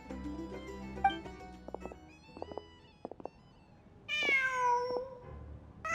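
A cat meows in Genshin Impact: a loud, drawn-out meow rises near the end after quiet music and soft clicking footsteps, standing clearly above the background.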